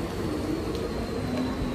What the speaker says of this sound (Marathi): ट्रेन आली आता.